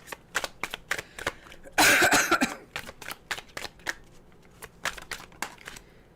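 Tarot cards shuffled in a series of crisp riffling bursts at close range, with a longer, denser flurry of card flapping near the middle and no talk.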